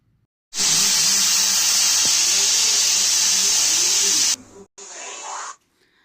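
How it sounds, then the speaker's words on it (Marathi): A pressure cooker cooking soaked whole masoor for a Kolhapur-style dhaba curry lets out a loud, sustained hissing whistle of steam lasting several seconds, then a short second burst after a brief break. "त्यामुळे आपण कुकरच्या इथं 3 शिट्ट्या करून घेऊयात"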